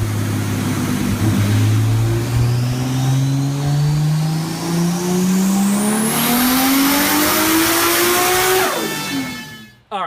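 A turbocharged Toyota Supra making 755 horsepower on a dyno, engine revving up in one long continuous sweep under loud boost and exhaust roar, then cutting off sharply near the end.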